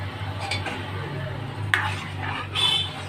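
Dal just brought to a boil, with a little sweetener added, being stirred in a pot: a few light scraping and clinking strokes over a steady low hum, fairly close, with no talking.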